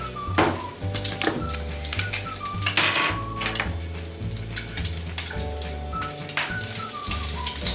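Bacon sizzles and crackles in a pan, its spitting pops mixed with clinks and scrapes of cookware in a busy, close kitchen bed.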